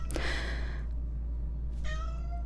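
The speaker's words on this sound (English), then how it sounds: "I don't know if you can hear my cat. She is meowing, wanting in the studio" Two drawn-out cat meows, one at the start and a second, rising one near the end, over a steady low hum; no one talks.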